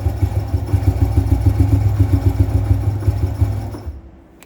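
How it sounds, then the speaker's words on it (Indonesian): A classic Honda C70 motorcycle engine, not yet warmed up, idles up close with a steady, low, even putter for about four seconds before it fades out. "Kalau dibilang sih mesinnya halus"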